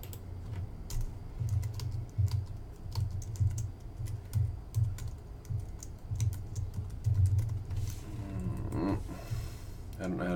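Rapid, steady typing on a small Mac keyboard during JavaScript coding, dense clicking keystrokes running continuously, with a low hum beneath and a brief voice near the end.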